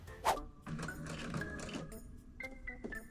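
A sewing machine with stitch length set to 5 stitches plus-size pants in short, fairly quiet runs of whirring, broken up by clicks and handling noises.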